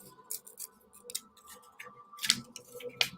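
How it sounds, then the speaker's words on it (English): Stuck-together paper craft blades are carefully ripped apart by hand, producing a few faint, sparse tearing rasps and small clicks close by, with no talking. "I'm going to very carefully rip this time"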